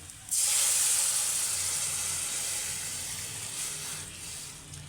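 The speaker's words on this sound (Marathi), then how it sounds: "आता मी ह्याच्यावर नारळाचं दूध टाकते" Coconut milk poured over steamed milk vadi sets off a sudden loud hiss of steam that starts abruptly and slowly fades while staying strong to the end.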